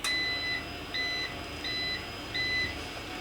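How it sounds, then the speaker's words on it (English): Cinestill TCS-1000 temperature control timer beeping, four short electronic double-tone beeps spaced evenly about every 0.7 seconds against quiet room hiss. "we got the timer set on the TCS-1000 Cinestill"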